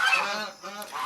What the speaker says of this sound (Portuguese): Os gansos aqui ao meu lado estão fazendo uma sonoplastia